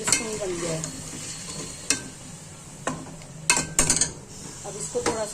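Garlic and ginger fry in a pot for a beef curry, giving a steady sizzle broken by sharp scrapes and clinks of a spoon stirring against the metal, close and moderately loud with no talking.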